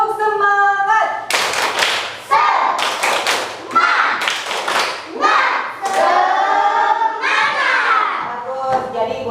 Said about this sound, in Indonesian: ayo kita tepuk semangat dulu satu kali ya